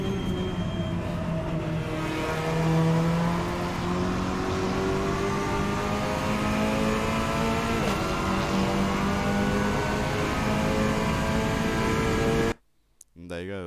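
Cupra Leon race car in a sim racing game at Vallelunga, engine droning steadily through the gears with rising and falling pitch, loud and continuous before cutting out near the end.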